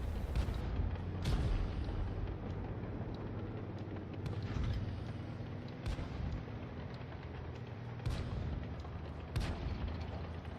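Heavy artillery booms from a DW2 tank battle in World of Tanks Blitz, with a few deep shots at intervals over a constant low rumble of engines and battle noise, no talk.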